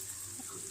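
Water splashes briefly into a pan of fried spice paste for phulurir jhol, a short close gush.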